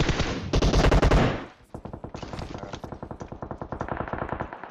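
Gunfire from a weapon in the video game PUBG: a dense, loud burst of shots, then a short pause and a long run of rapid, evenly spaced automatic fire with slight echo.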